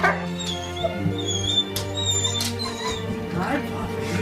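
A puppy gives a few short high whimpers and yips, close by, interspersed with a person talking excitedly over it.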